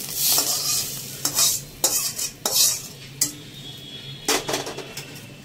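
Scrambled egg being tossed onto chow mein in a hot pan gives loud sizzling under repeated clanks and scrapes of a metal spatula against the pan, in an uneven rhythm. No voices are heard.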